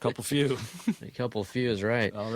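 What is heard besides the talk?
None of the usual background noises is heard.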